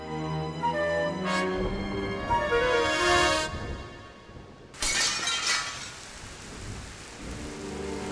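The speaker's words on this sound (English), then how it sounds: "Mooncalf jumped screaming through the stained glass window" A stained glass window in a temple shatters in the video game Discworld Noir, a loud crash of breaking glass followed by a second burst of tinkling shards over a rainy, thundery backdrop.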